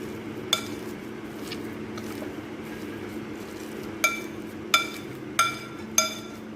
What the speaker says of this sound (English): go ahead while it's hot and simply crush it just like that